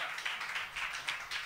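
A small audience on an Italian talk show claps to welcome a musician, light scattered handclaps with a few stronger beats, fairly quiet and close.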